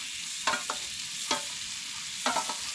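Deer meat stir-frying in butter in a pan, a steady soft sizzle broken by several short scraping stirs of a utensil, close and moderately loud, with no talk.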